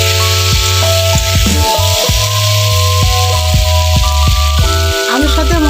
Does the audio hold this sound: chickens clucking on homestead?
no